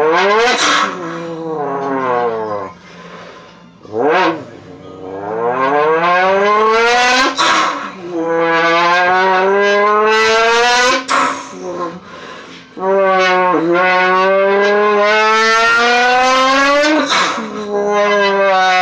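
A man imitates a turbocharged car engine with his voice, loud and close, making rising revving sweeps through the gears, brief pauses between pulls and a whooshing release.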